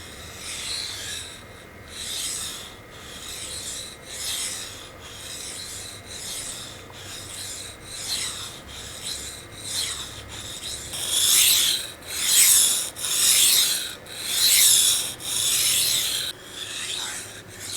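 Rhythmic scraping strokes of a knife sliding back and forth across a wet Naniwa Superstone 400 water stone, steady and close, growing louder and harsher toward the end.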